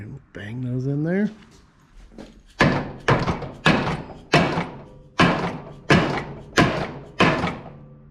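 A brief voice opens, then parts are hammered into place on a 1965 Harley Panhead build: eight loud, evenly spaced metallic bangs ring out close by, each with a short decay.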